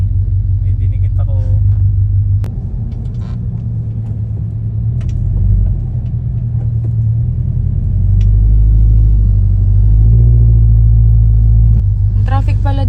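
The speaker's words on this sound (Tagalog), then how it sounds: "Ang traffic pala dito pag ganitong oras," A car's engine rumbles low and steady from inside the vehicle while crawling through road traffic, with people talking over the drone throughout.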